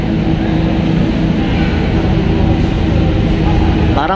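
A Honda Civic SiR fitted with a Spoon muffler idles with a steady, loud, low exhaust drone, while voices talk over it.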